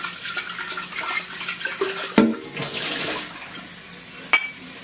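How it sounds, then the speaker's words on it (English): Hot water pours from a kettle into the bottom of a clip-top Kilner jar while making fridge pickles, a short liquid splash and gurgle with a couple of sharp clinks, close and fairly quiet. "I like to start off with a tiny bit of hot water down the bottom"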